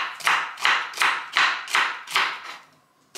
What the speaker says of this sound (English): Cut up the celery.